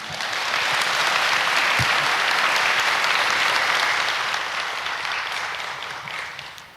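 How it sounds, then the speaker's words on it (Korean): A large gathering at a peace festival applauds a Korean Christian pastor stepping onto the stage, the clapping swelling quickly into a loud, sustained roar and then slowly tapering off. "박수 부탁드립니다."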